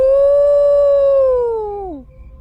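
A human voice imitates a jackal howling at night with one loud, sustained tonal howl that holds steady and then slides downward and fades after about two seconds.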